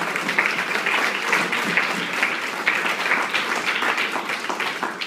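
A church congregation claps steadily and strongly for several seconds, a dense, even burst of many hands in a reverberant hall.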